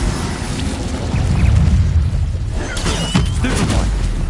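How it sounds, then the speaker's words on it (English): An Incendio fire spell erupts in a Harry Potter video game as a loud, rumbling blast that swells and roars for a few seconds, followed by crackling bursts and debris-like impacts. "Incendio."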